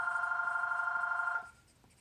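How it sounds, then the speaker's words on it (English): A phone rings steadily with a buzzing electronic trill in the background of a quiet room, then cuts off abruptly, faint and somewhat distant. "Sorry about my phone in the background."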